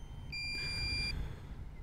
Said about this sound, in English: the low power beep